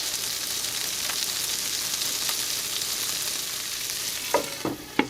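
Green beans fry in a pan with melted butter and olive oil, giving a steady, close, hissing sizzle throughout, and a few sharp scrapes and clatters from a spatula stirring near the end.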